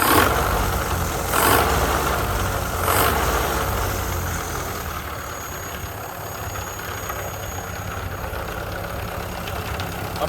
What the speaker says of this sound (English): I've never heard a Model A run before